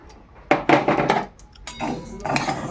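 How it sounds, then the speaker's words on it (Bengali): Dry mung dal tipped into a wok on a gas stove, giving a few sharp rattling clatters of lentils and metal, fairly close and loud, with brief quiet gaps between pours. "কড়াইয়ে ডালগুলো দিয়ে দিলাম"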